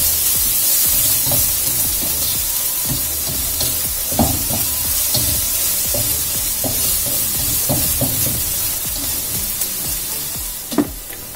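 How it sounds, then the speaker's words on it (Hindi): Green onion masala sautéing in a pan, a dense close sizzle with repeated scraping stir strokes and spatula knocks at an irregular rhythm, one sharper clatter near the end. "इसको भी मैं थोड़ा सा भून लेता हूँ"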